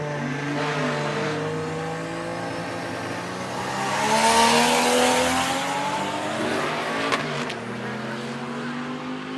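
Drag car with an inline-six engine and an open exhaust cutout covered by a plate, roaring loud and close with steady harmonic tones that swell in a revving surge midway before settling back.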